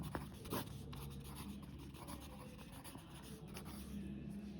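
Pen scratching across paper while a mode formula is written out by hand for a statistics problem, a faint continuous rubbing with small strokes, close and quiet, no voice.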